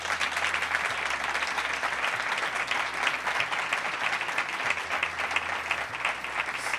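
Sustained applause from the audience at a 2023 Compromís candidacy presentation in Novelda, steady dense clapping throughout at an even level with a faint low hum underneath.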